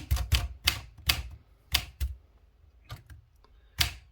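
Keys of a 1962 Olympia SF manual typewriter, some of them binding, struck one at a time in sharp, close clacks with uneven pauses between them, about eight strokes in four seconds and no other sound.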